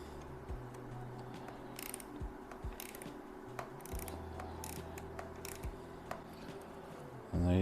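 A 1/4-inch drive ratchet wrench fitted with a Phillips bit backs out small screws on a 3rd-gen KLR650, giving rapid, continuous clicking with short pauses and a steady low hum underneath.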